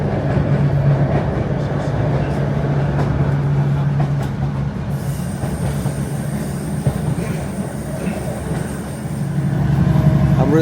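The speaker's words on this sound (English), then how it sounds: "I'm really glad we managed to get this train anyway at Lealholm" A train on the Esk Valley Line near Lealholm rumbles steadily for the whole stretch, with a low droning hum and a faint high whine. The sound swells louder toward the end, with no talk over it.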